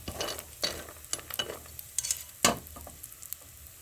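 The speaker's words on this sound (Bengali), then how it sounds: "তেলে গরম হয়ে গেছে, লাল লাল করে ভেজে নিতে হবে ডালের বড়িগুলো।" Lentil dumplings (bori) frying in hot oil, with a soft steady sizzle broken by several sharp crackles and stirring scrapes, the loudest burst near the end, close and alone without voices.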